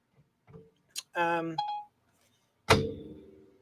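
A phone's Siri voice-assistant activation chime, a short bright electronic tone heard up close, with brief clicks and handling noises around it and a voice afterward.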